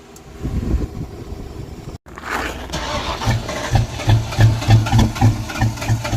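A 1994 convertible's engine cranks repeatedly after a short pause, a loud close rhythmic churning of the starter with pulsing low chugs that never catches, heard alone without talk.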